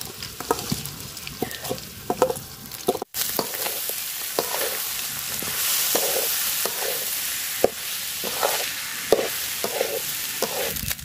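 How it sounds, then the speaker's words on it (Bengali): Rice frying in a pan with onion, garlic and spices, a steady close sizzle broken by repeated scraping stirs with a utensil, with no voices. "চাউলটা আমি খুব সুন্দর করে বাজা নিব, কুলার চাউলের মতো।"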